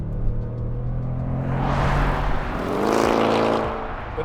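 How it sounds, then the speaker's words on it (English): A Jaguar F-Pace SVR's supercharged 5-litre V8 engine with 550 horsepower revs up from a low idle hum into a loud rising roar, then holds and eases back off, close and without talk. "has got a supercharged 5-litre V8 with 550 horsepower, and it sounds like this"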